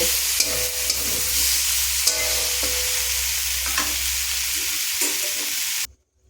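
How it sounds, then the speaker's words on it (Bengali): Cauliflower and potato pieces coated in spices are stirred in a hot pan, giving a continuous close sizzle punctuated by spoon scrapes and clacks, then cutting off abruptly at the end. "ফুলকপি আলুর সাথে মশলাটা ভালো করে নাড়াচাড়া করে মাখিয়ে নেব"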